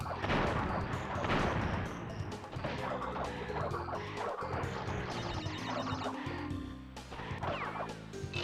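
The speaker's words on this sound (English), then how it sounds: "to not be damaged by the explosion of the explosive fruit" Explosive fruit bursts in Crash Bandicoot 2: Cortex Strikes Back, sharp blasts and crunchy impacts mixed with busy game music and effects, loud and close with no talking.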